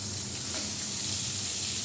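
Potatoes hit hot oil with a dense, continuous sizzle and hiss, loud and close, holding steady without any voices.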